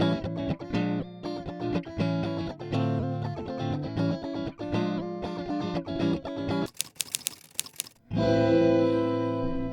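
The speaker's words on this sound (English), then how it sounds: "As an example, I've recorded this quick guitar chord progression." A raw, unprocessed guitar strumming a quick chord progression, recorded into Ableton Live Intro, with distinct rhythmic strums ringing clearly up close, then a brief pause and a final sustained chord.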